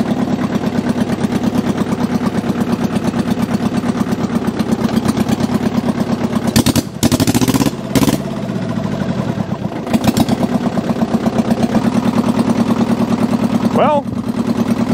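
A Mitsubishi diesel tractor engine running close by, a loud steady chugging idle with a brief burst of revving and clattering midway, a person speaking briefly over it.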